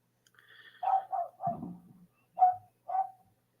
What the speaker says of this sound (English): Is your dog outside, Mason?